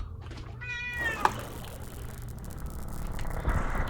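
Cat meowing in the video game Darkest of Days: a single drawn-out, rising meow, close and clear, followed by a short click and low background rumble, with no talk.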